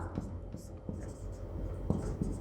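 Marker or chalk strokes on a board during a maths lesson, a series of short scratchy taps and squeaks, fairly faint and close, with a soft voice in the background.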